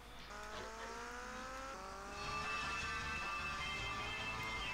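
Motorbike ridden in the game GTA Vice City, its engine note rising in steady revving sweeps that climb and hold, loud and continuous with a tire-squeal edge and no talk.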